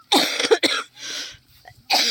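Several sharp coughs from a person with a cough outdoors on a banana farm during harvest, in bursts with short pauses, close and fairly loud.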